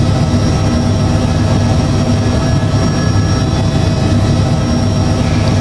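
A small aircraft engine roars loud and steady throughout takeoff at Topeka Regional airport in Kansas, a constant drone with no pauses or voices.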